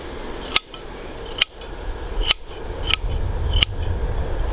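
Hand shears clip the thick wool of sheep during shearing, making about five sharp, evenly spaced metallic snips close by over a soft rustling background, with no voices.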